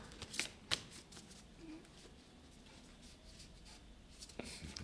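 Tarot oracle cards are shuffled by hand in a few quick, crisp riffles near the start, followed by quieter handling while people chat softly in the background.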